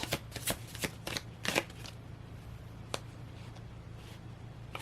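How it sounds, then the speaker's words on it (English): Tarot cards being shuffled by hand for a pick-a-card reading, with a burst of rapid riffles, a few sharp snaps and then quieter intermittent shuffling, all close and without speech. "Try and shuffle again."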